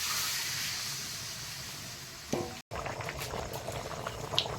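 Water poured into a cooking pot holding chicken and potatoes: a steady rushing hiss of pouring for a couple of seconds, a brief cut, then bubbling with light clatters and clinks close by.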